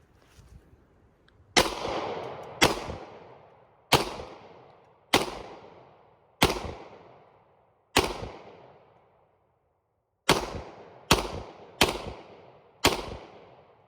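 Gen 4 Glock 20 pistol fired outdoors: ten sharp, loud shots, a quick pair and then spaced single shots, a pause, and a final rapid string of four, each followed by a short decaying echo.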